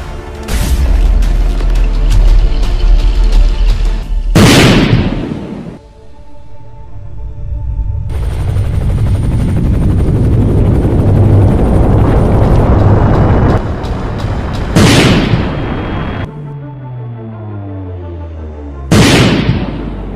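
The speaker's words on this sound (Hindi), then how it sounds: "जल्दी से मिसाइल्स फायर कर दो।" Cartoon missiles launching and blowing up in an India vs Pakistan robot battle: loud, close booming blasts in sequence, with roaring whooshes and sweeping tones between several heavy explosions.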